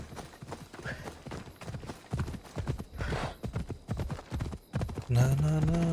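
Horse hooves clip-clopping in Assassin's Creed Odyssey, a steady rhythmic trot of close game footsteps under intermittent talk, with a horse whinny or vocal sound rising near the end.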